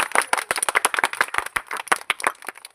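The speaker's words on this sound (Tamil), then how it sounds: "கைத்தட்டுங்க" A small group at an Ambedkar birthday gathering in Bukkampatti claps close by in quick, irregular bursts, sharp individual handclaps overlapping for a few seconds with no talking.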